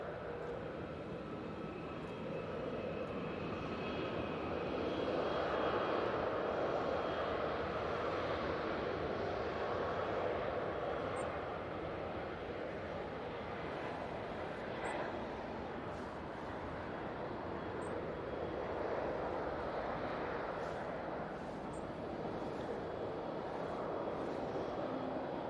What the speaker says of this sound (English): And they're finally moving that queue of aircraft